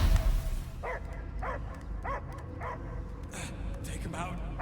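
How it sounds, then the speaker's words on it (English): A dog barks in the Guardians of the Galaxy video game, several evenly spaced barks at moderate distance over a low rumbling game ambience. "I hear only barking."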